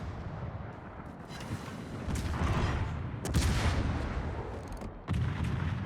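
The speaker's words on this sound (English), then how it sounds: "I'd shoot the Yoshino here with AP." Submarine deck guns firing armor-piercing shells in World of Warships, heavy booming reports over a rumbling battle background, with one sharp blast midway and another near the end.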